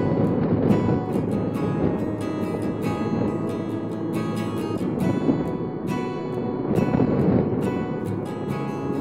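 Steady roaring wind buffets a Honda Goldwing motorcycle carrying a rider and passenger along a windy mountain road near the sea, a dense broadband rush with a low drone underneath for the whole stretch, no talking.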